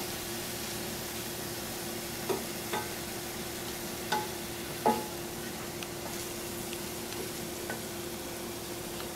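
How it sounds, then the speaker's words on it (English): Vegetables sizzle steadily in hot oil, a constant hiss broken by a few sharp clicks and scrapes of stirring. "It's a really good thing when you hear this sizzling sound."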